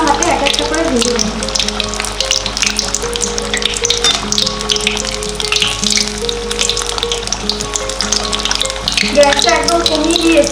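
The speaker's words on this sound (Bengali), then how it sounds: "এবার খুব হালকা হাতে এক একটা করে ভেজে নেব।" Stuffed ash gourd fritters in batter sizzle steadily in hot oil, a continuous close frying hiss running under background music throughout.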